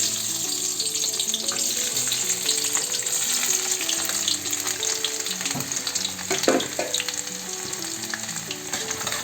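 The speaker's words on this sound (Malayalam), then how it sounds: "നമ്മുടെ എണ്ണ നന്നായിട്ട് ചൂടായിട്ടുണ്ട് നമുക്ക് അതിലേക്ക് കടുകിടാം" Mustard seeds, garlic and ginger fry in hot oil for a Kerala-style rambutan pickle, giving a loud, steady crackling sizzle with scattered pops and a few sharper spatters near the end, no talk.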